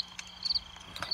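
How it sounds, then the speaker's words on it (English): Crickets chirp in a Roblox camping game at a campfire, a faint, steady high trill with a few brief louder pulses, no voices. "What is those weird sounds? I think it's crickets."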